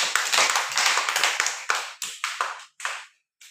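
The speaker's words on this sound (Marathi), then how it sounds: "हा चला आता 4 टाळ्या वाजवा" A group of children claps in unison at a tutoring session, a run of sharp, close claps in a steady rhythm that thins into a few separate final claps, with no talking.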